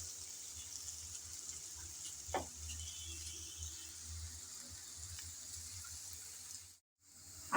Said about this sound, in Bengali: এখন আমি নেড়ে চেড়ে ভালোভাবে আলুটাকে ভেজে নেব।